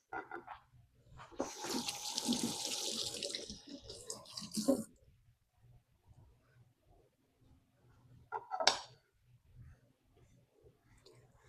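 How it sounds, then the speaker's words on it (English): Hands washed under a running tap, a gush of water lasting about four seconds followed by quiet rustling and a short second splash, close and fairly faint. "So I'm going to wash my hands."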